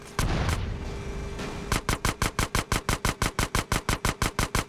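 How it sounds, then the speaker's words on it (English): Gunfire in the video game GTA San Andreas as a gate is shot out: a loud roaring blast gives way to a rapid, evenly spaced volley of about fifteen shots, close and steady, with no talk. "Shoot out the gate!"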